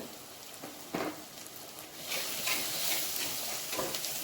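Ground onion, tomato and garlic masala sizzles softly in a pan for fish curry, with a few spoon scrapes and the frying growing louder partway through, quiet and close.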